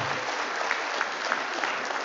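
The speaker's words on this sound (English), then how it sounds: "Shall we give them a round of applause" An audience at a Scouting Asia-Pacific regional event claps steadily in a dense, continuous round of applause that holds at an even level from start to finish.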